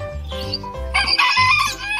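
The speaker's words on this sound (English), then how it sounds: "P for parrot." A loud bird call squawks close up in a short, harsh, rising burst, sounding alone with a musical backing underneath.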